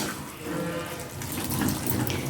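Water pours steadily into a pot of mutton leg biryani, making a close, continuous splashing rush that swells slightly toward the end, with no voices over it.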